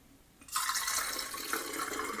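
Tap water gushes into a container of film developer concentrate, diluting it for black-and-white film processing at home; after a quiet half second the stream starts abruptly and runs on steadily, close and bright.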